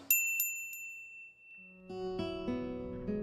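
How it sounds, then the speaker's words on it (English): In the Katawa Shoujo video game, a bell hung above a thick wooden shop door gives three quick bright chimes, then rings out and fades as soft music begins. "I push the thick wooden door and enter the store. A bell above me rings out."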